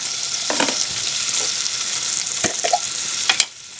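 Onion and green pepper fry in a hot pan with a loud, continuous sizzle. Several scraping stirs cut through it before the sizzle drops off at the end.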